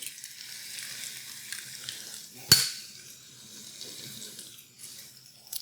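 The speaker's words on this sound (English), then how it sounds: "I'm going to pop some eggs in here" Eggs fry in a Carote pan with a faint, steady hiss, broken by a sharp crack and a brief burst of splashing water midway, and a quiet voice is heard.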